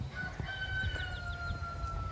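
A rooster crows faintly at a distance over a low rumbling background, drawn-out calls rising and falling, with some soft clucks from nearby chickens.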